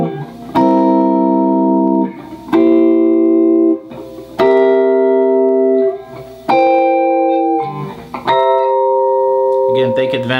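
Jazz guitar drop 2 voicing chords in third inversion, played on the top four strings: five sustained clean chords struck one after another at a steady pace, each ringing for about two seconds before the next.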